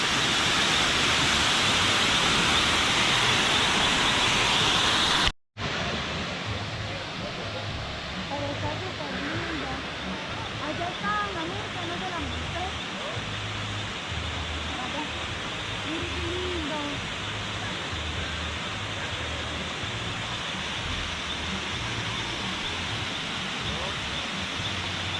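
Ice-cold mountain water flowing at a Colombian hot spring in Santa Rosa de Cabal, a steady close rush that runs throughout, with a brief cut early on, while voices talk over it.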